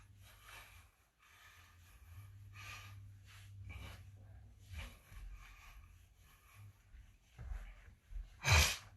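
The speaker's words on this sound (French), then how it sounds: "Donc je renifle un petit peu." Person with a head cold sniffing during an abs workout, several short, quiet nasal sniffs and breaths spaced irregularly, ending in one sharper, louder sniff.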